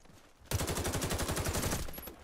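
Rapid automatic gunfire in the video game Warface, an M4A1 rifle firing a steady sustained burst of evenly spaced loud shots for nearly two seconds after a brief quiet lead-in.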